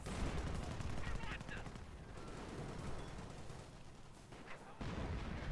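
Heavy artillery and gunfire rumble through a Company of Heroes 2v2 battle, dense low booms and crackling shots rolling continuously at moderate volume with a commentator's voice faintly underneath.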